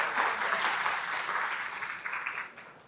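An audience at a talk on insulin resistance claps for the doctor as he is welcomed, a dense, even patter of applause that slowly fades toward the end.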